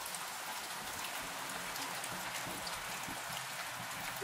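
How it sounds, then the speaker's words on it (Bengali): Rain falling steadily in a village, a soft even patter of drops on surfaces, fairly faint and continuous with no voices. "মা দেখো, বৃষ্টি শুরু হয়ে গেল।"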